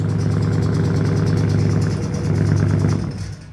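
A car engine idles loudly and steadily with a persistent rattle, holding a rough, even drone before the sound tapers off near the end.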